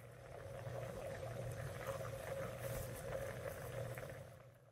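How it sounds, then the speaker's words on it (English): Butter simmering at a high rolling boil in a pot as it cooks down into ghee, giving a steady, dense bubbling hiss that holds evenly throughout at close range with no talk over it. "You probably can hear it. It's bubbling."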